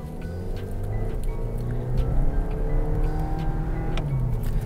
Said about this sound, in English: Now let me give it some power.